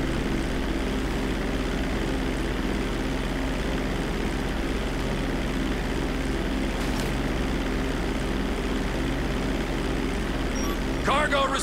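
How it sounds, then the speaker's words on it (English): A propeller plane flies in Grand Theft Auto V, its engine drone steady and loud throughout, with a faint voice and a few small game clicks near the end. "Driving the plane or whatever,"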